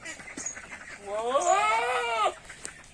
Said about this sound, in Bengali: কি জাতের ছাগল কাকা এটা